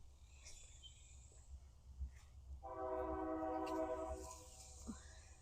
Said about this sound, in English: Cue the train. Oh, there it is.